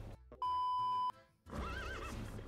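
A horse neighs loudly in the video game Albion Online while being ridden, a sustained whinny followed by a second wavering neigh over game ambience, with faint clip-clop of hooves beneath.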